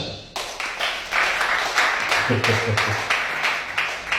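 A church congregation applauds and cheers together, a dense, steady wash of clapping with recurring surges and a low hum of voices beneath, close and loud throughout.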